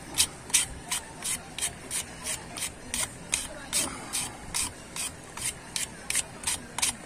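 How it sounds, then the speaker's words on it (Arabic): Fine 360-grit sandpaper rubs against a knife in quick, even back-and-forth strokes, each a loud, close, hissing scrape repeating at a steady rhythm of about two strokes per second. "دي صنفرة 360 ناعمة يا جماعة"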